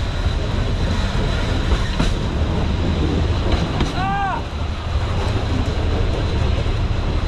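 Steady rumble of a train rolling by, dense low roar throughout with a brief high whistle-like chirp midway.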